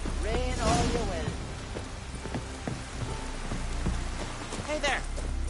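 Steady rain falls in The Witcher 3: Wild Hunt, a constant broad hiss with faint knocking hoofbeats, mostly under voices talking.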